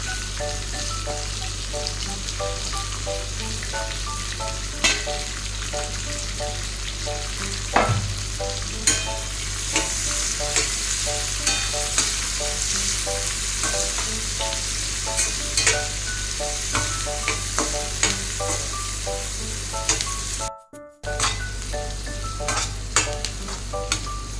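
Steady frying sizzle of onions and green chillies in a pan, with occasional scrapes and taps of a spoon stirring, continuous and close throughout, no voices.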